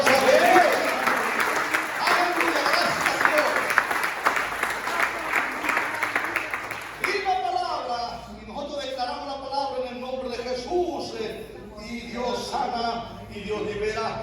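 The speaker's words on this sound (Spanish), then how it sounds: "Denle un fuerte aplauso a Dios." A church congregation at a Caribbean rally breaks into sustained, dense applause for about seven seconds, then it gives way to a preacher talking with crowd murmur behind him.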